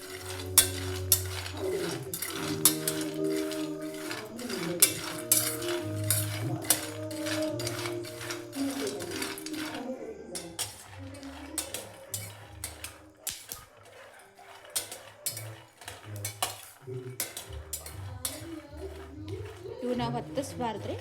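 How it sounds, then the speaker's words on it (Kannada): A bowl of peanuts is dry-roasted on medium heat for North Karnataka shenga hindi, stirred and scraped around a pan with steady clattering, rattling strokes that run under a speaking voice throughout. "ನಾವು ಮೀಡಿಯಮ್ ಒಳಗೆ ಇಟ್ಕೊಂಡು ಹಿಂಗೆ ಫ್ರೈ ಮಾಡ್ಕೋಬೇಕು"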